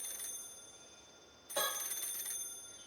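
Telephone ringing in the video game PARANORMASIGHT: a bright electronic ring in short bursts, a brief pause and then a louder sustained ring, clear and alone.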